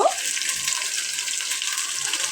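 Chicken biryani masala, with turmeric, chilli and coriander powders and salt, frying in a pan: a bright, continuous hiss of sizzling oil, steady and close, with no voices.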